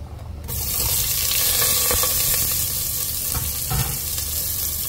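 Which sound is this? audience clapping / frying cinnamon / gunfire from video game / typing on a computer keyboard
frying cinnamon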